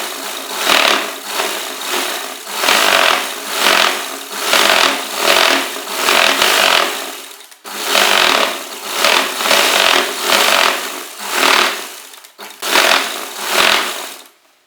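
A sewing machine stitches the side seam of an Afghani salwar in rhythmic bursts, its mechanical chatter rising and falling in short runs with brief pauses between them, close and fairly loud, with no voices.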